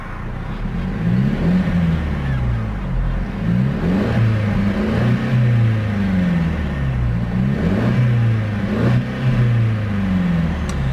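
A 2017 Mercedes-Benz SLC200 AMG Line engine revs repeatedly through its exhaust, rising and falling in several blips against a rev limiter near 4,000 RPM, loud and close with a steady idle drone between the revs.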